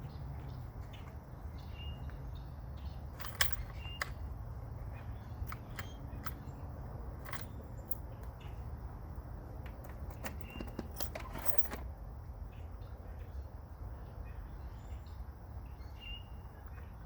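Motorcycle keys jingle and clink in short bursts over a steady low rumble of background noise, with a few sharp metallic rattles and quieter pauses between them.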